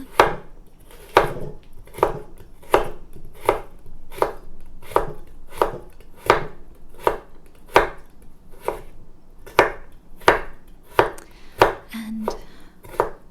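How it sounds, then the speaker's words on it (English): A knife cuts carrots into thin matchsticks on a cutting board, about twenty crisp, evenly spaced chops in a steady unhurried rhythm, close and clear with no talking. "to cut into thin matchsticks"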